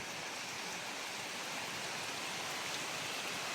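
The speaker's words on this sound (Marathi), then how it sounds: "आता पाऊस बघा अगदी बैल घरी आणले आणि पावसाने जोरदार सुरुवात केलेली आहे" Heavy rain pours down in a dense, steady hiss with no breaks, close and uniform throughout, with no voices.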